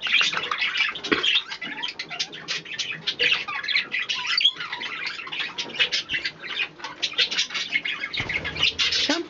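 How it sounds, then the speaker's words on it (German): Pet bird squawking and chirping in rapid, close, fairly loud bursts, with some wing flapping mixed in, continuing for the whole stretch. "die Maike wird sich freuen, dass ihr so einen Vogel kriegt, was"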